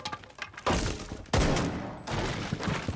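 Bursts of gunfire in Rainbow Six Siege shooting through a breakable wall, three loud volleys separated by brief pauses, close and sharp with no talking.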